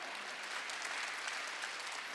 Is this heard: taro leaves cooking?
no